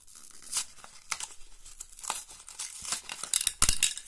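Plastic packaging holding small concealers is torn and crinkled open up close, with irregular ripping bursts and crackles that build louder toward the end.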